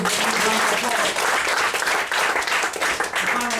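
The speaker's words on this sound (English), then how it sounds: "get a round of applause" Audience at a live magic and hypnosis stage show bursts into sustained applause, dense and loud throughout, with faint voices mixed into the clapping.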